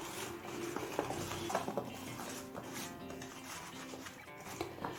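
Hands mix salt and turmeric into sliced teasel gourd in a bowl. Quiet, close rubbing and squishing comes with occasional light clinks against the dish.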